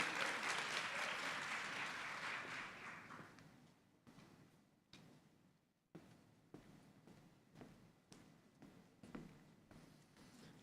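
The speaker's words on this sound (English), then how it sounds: "would you give a round of applause to our graduating seniors?" A banquet audience applauds graduating seniors of the Class of 2022, dense clapping starting loud and near, tapering off after a few seconds into scattered individual claps and light knocks.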